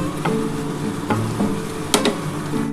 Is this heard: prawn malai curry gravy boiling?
yes